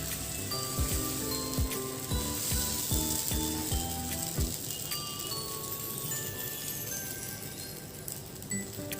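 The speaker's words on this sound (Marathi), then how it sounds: "आता आपण बॅटर टाकून छान व्यवस्थित आपण डोसा बनवून घेऊया." Dosa batter sizzles on an oiled griddle, a steady bright hiss throughout with a few soft clinks and taps early on, close and continuous with no talk.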